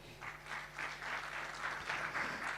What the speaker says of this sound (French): le ministre Abderrahmane Sarr, que je vous invite à applaudir bien fort, si vous le permettez